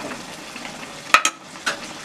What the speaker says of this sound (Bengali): এবার আমি যে জলটা রেখেছিলাম সেই জলটা দিয়ে দিচ্ছি